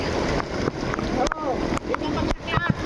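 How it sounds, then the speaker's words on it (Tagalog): Strong floodwater current rushes and splashes through a street during heavy rain, a loud, continuous roar with scattered splashes. "Tingnan niyo kung gaano kalakas ang agos."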